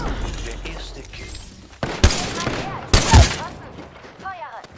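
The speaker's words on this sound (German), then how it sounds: "Werde beschossen." Gunfire in the battle royale shooter Apex Legends, with sharp loud bursts near 2 and 3 seconds over a busy game mix, and voices talking throughout.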